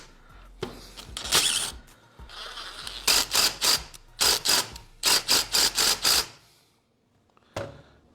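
A 3/8 ratchet and socket works on the bolts of a small engine's recoil starter, producing loud, close bursts of rapid clicking in repeated strokes with short pauses between them, then a final click after a silence.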